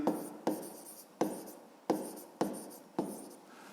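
Pen writing by hand on paper, six sharp strokes or taps at a steady pace, each followed by a short scratchy trail, close and fairly quiet.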